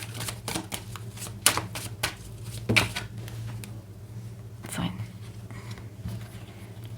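Tarot cards are shuffled and drawn, giving a string of sharp papery snaps and flicks, a few louder slaps standing out, with a steady hum behind and quiet talk around.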